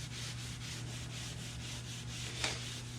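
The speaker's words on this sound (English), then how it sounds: "I'm gonna scrub these off" A Scotch-Brite pad scrubs greasy lathe parts in rhythmic back-and-forth strokes, a soft steady rasping with a faint electrical hum beneath, close and quiet, no talking.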